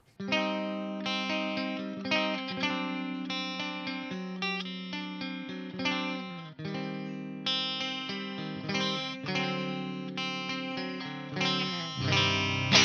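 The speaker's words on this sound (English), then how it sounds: "Position 2." Cheap Ibanez metal electric guitar on the second pickup position through a clean amp, chords strummed continuously in a steady rhythm, a little quieter and thinner, with a faint chorus-like shimmer and no voices.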